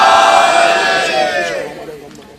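A gathered crowd at a religious celebration gathering voices a slogan together, a loud massed shout that swells at once and then fades away over a couple of seconds.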